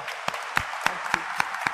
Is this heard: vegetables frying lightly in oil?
no